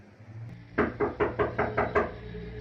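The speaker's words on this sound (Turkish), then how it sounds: "Kapı çalıyor abi." Six evenly spaced knocks on a door ring out sharply over a low room hum, loud and close, with no one talking.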